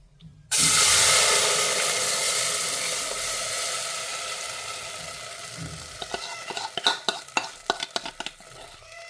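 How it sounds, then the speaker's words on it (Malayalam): Rice batter for kalathappam hits a hot pressure cooker with a sudden loud hiss that slowly fades, followed by a run of sharp clinks and scrapes of utensil against metal near the end. "ഇപ്പം നമ്മുടെ കുക്കർ നല്ല പോലെ ചൂടായിട്ടുണ്ട്. ഇനി അതിലേക്ക് നമ്മുടെ മാവ് ഒഴിച്ച് കൊടുക്കുകയാണ്."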